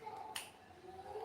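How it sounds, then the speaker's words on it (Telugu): A single crisp finger snap, quick and close, standing out against a quiet room background. "చిటికెలు బాబు, చిటికెలు."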